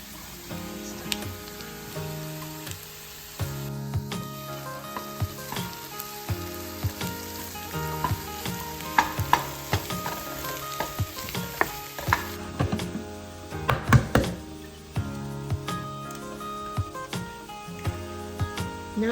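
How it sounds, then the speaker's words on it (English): Bacon frying in a pan while breakfast is prepared ahead for a frittata, with a continuous close sizzle and crackle punctuated by spatula scrapes and pan clatter, no talk. "Now I'm gonna add the bacon."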